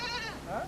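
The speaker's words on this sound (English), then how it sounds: "When the goat we had been carrying with us was brought out for the kill" A goat bleats in two wavering cries, the second rising after a short break. The animal was carried along by soldiers travelling in the western Sahara and is about to be slaughtered. It sounds close and fairly loud.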